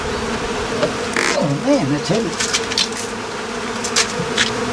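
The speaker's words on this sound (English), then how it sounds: "Oh, wow. Look at all the bees in here." A large swarm of honey bees buzzes steadily around a hive box during beekeeping, a close, continuous drone with individual bees whizzing past, while a person talks intermittently over it.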